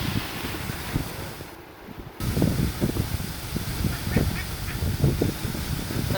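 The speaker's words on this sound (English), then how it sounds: "They're all crying, and Mama duck went and got the other baby" Baby ducks cry with repeated high peeps near a roaring waterfall, the chirps scattered over constant rushing water and wind noise on the microphone.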